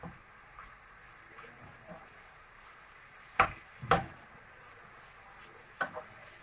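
Seafood filling for chicken and seafood pastilla stirred in a bowl, with quiet wet mixing and a few louder clacking knocks of the utensil against the side, close and sparse, no voices.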